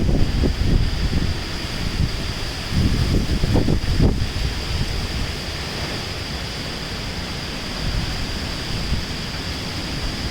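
Strong cyclone winds in Goa, forecast at 55 to 65 km/h, roar as a steady, loud rush of broadband noise with gusts swelling in the first few seconds. No voices are heard.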